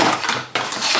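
A handmade polymer clay trinket dish is handled and packed, making light clinking and scraping sounds, close and brief, with no voices.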